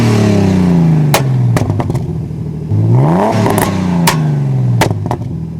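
A car tuned to backfire revs repeatedly, its engine pitch rising and falling, while several sharp, loud exhaust pops crack out at irregular intervals, close and without talk.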